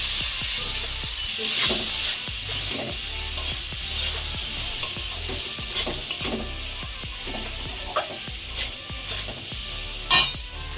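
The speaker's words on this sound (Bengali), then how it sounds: "মশলাটাকে একটু কষিয়ে নেব। দেবো কচু, আলু দিয়ে দেবো।" Spices sizzling in oil with taro and potato being stirred in a pan, a steady close frying hiss with repeated scraping strokes of a spoon and a sharp clink near the end.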